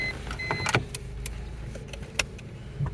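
A 1988 Toyota Camry driving slowly on a parking deck, a low steady engine rumble with a few sharp clicks and clunks from the car.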